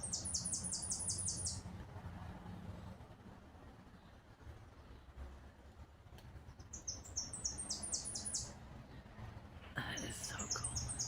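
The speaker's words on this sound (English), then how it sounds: "Listen to that bird, I can't see it. I love the way it sounds." A bird sings outdoors after rain, with short bursts of rapid chirps near the start, again in the middle and at the end, over a low steady background rumble.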